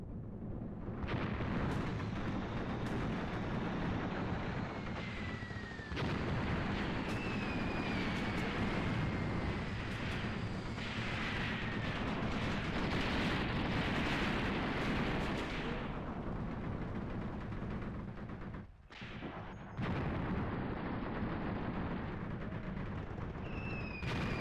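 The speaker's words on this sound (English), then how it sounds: "Okay, this vehicle is taking fire." Heavy gunfire and explosions batter an armored personnel carrier in the WWII tactics game Graviteam Tactics: Mius Front, a loud, dense barrage that runs almost continuously with a brief lull near the end, with no talk.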